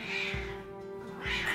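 A cat in the Battle Brothers game gives two drawn-out meows, close and clear, separated by a short pause over a low steady hum.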